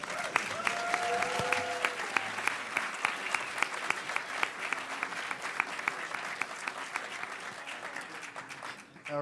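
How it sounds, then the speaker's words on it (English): Hacker conference crowd at the HOPE 2012 closing ceremony applauds in a broad, sustained wave, with sharp individual claps and a few whoops popping out, heard from some distance in a large hall before tapering near the end. "Applaud for yourself and your potential"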